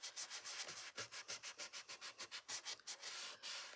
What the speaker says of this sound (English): I got this at the dollar store, emery board, sandpaper, whatever you have. We're just going to rough up this coat just a little bit.